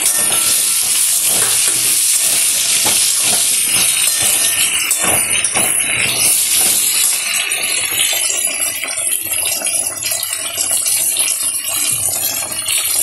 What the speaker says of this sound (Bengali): তেলের মধ্যে সামান্য দিয়ে তেজপাতা ফোড়ন দিয়ে দিয়েছি। আলুগুলো এগুলো দিয়ে লাল লাল করে ভেজে নেব।